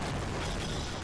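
A dense, sustained blast of broadband noise fills the moment as a grenade explodes in the Half-Life game, loud and close with no break in the roar.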